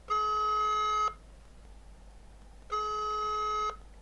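Unanswered telephone ringback tone during a call to an office number, two long electronic ring bursts about a second each separated by a pause, heard clearly over a quiet line with no talking.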